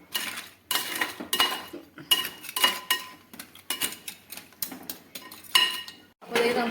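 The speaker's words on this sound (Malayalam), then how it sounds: "ഇനി നമുക്കിത് നല്ലോണം അങ്ങോട്ട് മൂടി വെച്ചങ്ങോട്ട് വേവിക്കും" A metal lid clanks and rattles onto a pot of crab roast. Repeated loud, close clinks and scrapes come in uneven bursts with short gaps between them.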